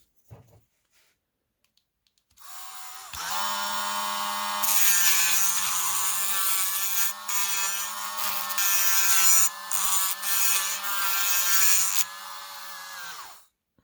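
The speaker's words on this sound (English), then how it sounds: "let's drill and tap it out" A drill bores and taps a hole in a small diecast model car part, running steadily for about ten seconds with brief dips in pitch before stopping, close and alone.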